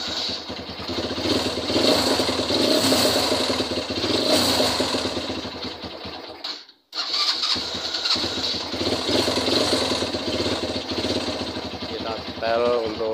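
A Suzuki Thunder motorcycle engine fitted with a PE 28 carburetor revs loudly and close, with a buzzing, clattering note. It cuts out briefly midway, then picks up again, and a voice can be heard faintly at times.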